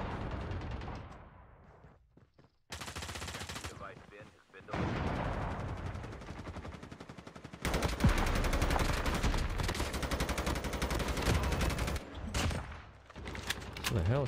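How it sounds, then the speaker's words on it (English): Loud, sustained gunfire from COD Mobile battle royale, dense automatic bursts and booming shots that continue for most of the stretch after a brief lull, with a voice talking over it. "Shooting at me."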